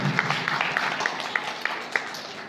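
Audience at an RCM ULP program event in Masaurhi clapping in a steady, dense wash of applause with scattered sharper individual claps, moderately loud throughout.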